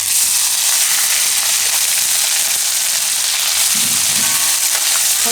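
Ginger, green chillies and garlic hit hot oil for a Gujarati vegetable dish, giving a loud, steady hiss-and-crackle sizzle that runs the whole time without a voice over it, with a brief stirring scrape near the end.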